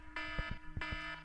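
Repeating alarm tone sounding in the background behind a routine power plant restart, two long beeping bursts with a steady rhythm, moderately faint and alone.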